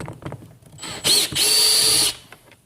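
Power drill whirring as it backs screws out of a 2016 Ford F-150 Lariat SuperCrew door panel, two loud close bursts of about a second each with a brief pause between them, no talking.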